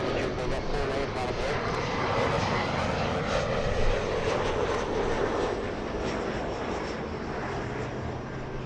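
Airplanes taking off and landing at LAX airport during east flow operations, a loud continuous engine roar filling the scene, with people talking underneath throughout.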